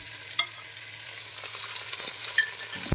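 Cut vegetables, potato, carrot and fried okra, sizzle in a pan for Udupi-style sambar, with a soft continuous fry, occasional utensil clicks and stirring scrapes, and a sharper knock at the end.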